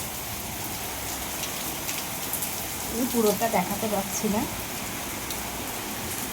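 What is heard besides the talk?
heavy rain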